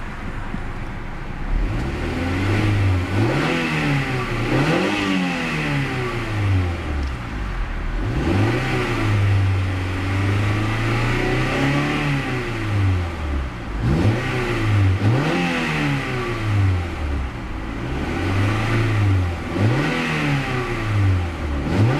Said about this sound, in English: It's a great sounding motor.